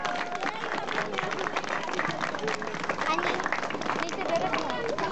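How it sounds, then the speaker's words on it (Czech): An audience applauds at a cycling race award ceremony, with dense continuous clapping and some crowd voices mixed in throughout. "teď vás poprosím o potlesk pro tuto kategorii"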